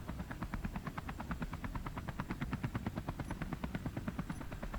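Spacecraft main engines in the game Space Engineers start up into a loud, steady mechanical drone with a fast, regular pulsing rhythm, close and continuous throughout with no voices.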